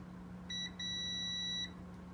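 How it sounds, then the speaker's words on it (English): Two electronic multimeter continuity beeps, a short one then a longer sustained tone, over a low steady hum, during arcade monitor repair. "sometimes you'll get a beep like that, but if it doesn't go, you know, down close to 0"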